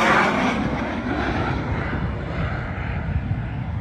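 Light airplane engine drones steadily through a low pass over an air race course, a continuous broad roar that swells slightly at the start and then holds.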